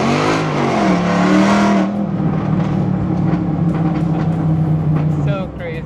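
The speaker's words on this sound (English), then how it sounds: "The car sounds so good." A car engine roars as the gas is stepped on, holding a loud, high rev for about two seconds before falling back to a rumbling idle, with voices and background noise near the end.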